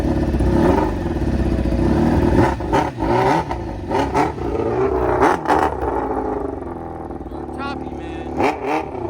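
A car engine, with a newly replaced gasket, revs and runs at an uneven, choppy idle close by, its rumble rising and dipping irregularly while someone talks over it.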